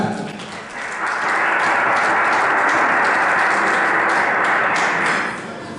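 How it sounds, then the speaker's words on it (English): An audience claps in applause at an awards ceremony, swelling after a second into steady, loud, dense clapping that holds for several seconds before easing off. "Ladies and gentlemen, please round of applause for the publisher one more time."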